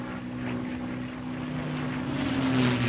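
P-51 Mustang fighter plane in flight, a steady piston-engine drone with strong low tonal hum and rising pitch lines, moderately loud and continuous with no talking.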